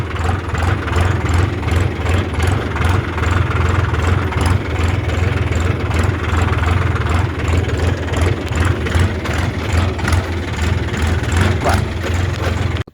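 A modified Sonalika tractor engine idles steadily and loud up close, a deep continuous throb with a regular pulsing rhythm and no breaks for the whole stretch.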